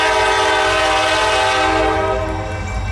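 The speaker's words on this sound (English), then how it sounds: "Oil train, local maybe, I don't know. Wheeling and Lake Erie train." A Wheeling and Lake Erie tank train hauling oil at Brewster, Ohio, sounds its horn, a loud sustained blast over rumbling, rolling cars that carries on alone.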